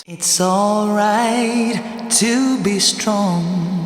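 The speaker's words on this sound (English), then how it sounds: "This is just the Valhalla vintage verb, so it sounds like this." Sung vocal drenched in Valhalla VintageVerb reverb, a sustained melodic phrase with long washy tails blurring each note, loud and up front.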